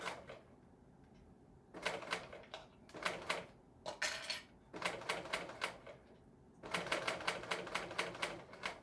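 A serger sewing machine runs in short rapid bursts of stitching while inserting a zipper, loud and close, separated by brief pauses.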